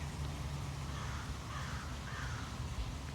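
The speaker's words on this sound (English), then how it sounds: "Cue the crow." A crow caws repeatedly, a few harsh calls standing out over a steady, loud background rumble.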